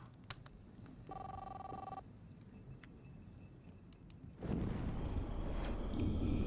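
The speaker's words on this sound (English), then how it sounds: "Don't answer the phone." A telephone rings once in the video game Life Is Strange, a short, steady bell-like trill over quiet ambient game sound, followed by a louder wash of noise.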